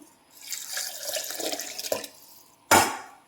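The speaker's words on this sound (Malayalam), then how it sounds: "ഈ വെള്ളമാണ് അരപ്പിലേക്ക് ഒഴിച്ചു കൊടുക്കേണ്ടത്" Tamarind water poured into ground coconut paste for sambar, a steady trickling splash lasting a couple of seconds, then a brief louder splash near the end; no talking.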